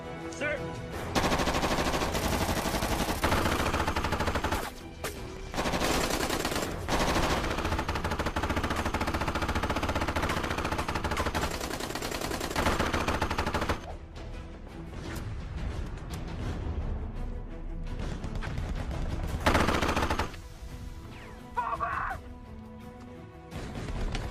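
Gunfire rings out in an action-film firefight, with sustained bursts of automatic fire and loud shots, some crashes and whooshes, and shouted voices mixed in throughout.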